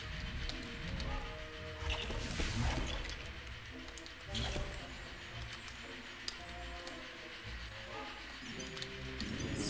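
Rain conjured in the video game Lego Harry Potter, a steady wet hiss with splashy, dripping bursts layered over ongoing game music.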